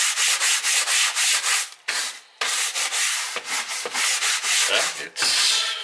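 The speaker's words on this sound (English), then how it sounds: "I have this good one to scrub it, so it's easy to remove it" Scrubbing dirt off a stove produces close, loud, rhythmic back-and-forth rubbing strokes with short pauses between bursts, with no one speaking.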